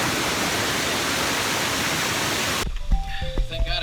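Tarzan Falls on Guam pours as a loud, steady broadband rush of falling water for under three seconds, then cuts abruptly to quieter ambience with a voice speaking.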